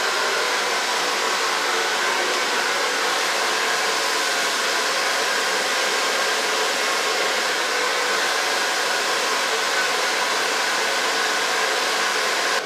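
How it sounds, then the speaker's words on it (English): Hair dryer blowing steadily and loudly close by while hair is styled with a medium round brush, one continuous unbroken roar with no pauses. "Blow dry it with a medium brush, starting on the front."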